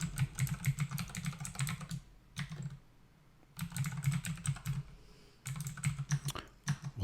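Close, fast typing on a computer keyboard comes in several bursts of clattering keystrokes separated by brief quiet pauses.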